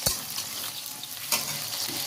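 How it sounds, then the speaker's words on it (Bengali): Onions fry over a high gas flame for a cabbage chicken dish, with a constant close sizzle and two sharp spatula scrapes against the pan, one at the start and one midway. No one speaks. "এটা একটু লাল লাল করে ভেজে নেবো পেঁয়াজটা"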